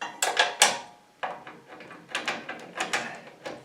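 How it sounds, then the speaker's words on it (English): Bottom 18mm bolts come off a Chevy Colorado grille guard, giving close, repeated bursts of metallic ratcheting clicks separated by brief pauses. "we're going to remove 3 bolts on each side. So it's these 18mm bolts at the bottom"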